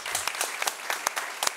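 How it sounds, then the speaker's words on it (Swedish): A small audience applauds a conference panel, brief scattered clapping from a modest crowd, close and fairly light, with no talk over it. "Vi ger dem en applåd"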